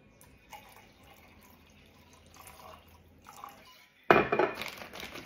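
Louisiana rice vodka is poured into a plain mixer cup, a faint trickle of liquid for several seconds that gives way near the end to a louder clatter and splash of liquid.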